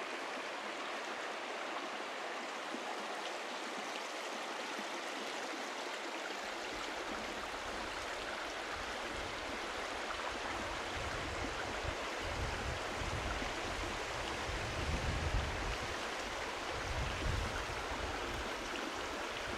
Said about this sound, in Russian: Смотрите, какая красивая река.